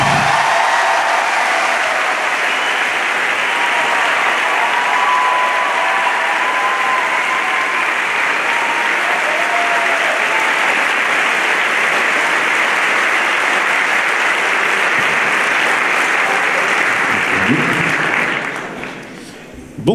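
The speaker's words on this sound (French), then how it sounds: "On peut les applaudir." A large audience at the Grand Rex in Paris applauds the Neko Light Orchestra, a loud, dense, sustained ovation that holds steady for most of the stretch before tapering off near the end.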